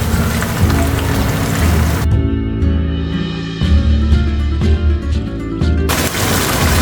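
Tomato paste from two tomatoes cooking into browned onions in a pot for beef Bannu pulao, a steady close sizzle and bubbling with crackling pops, briefly quieter in the middle before swelling again.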